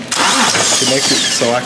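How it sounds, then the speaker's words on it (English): A BMW 335i with the N54 engine is cranked by a remote bump starter, a loud, close whirring turnover that runs under someone talking throughout. "can turn over the engine as needed."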